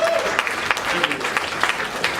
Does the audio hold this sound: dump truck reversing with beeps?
no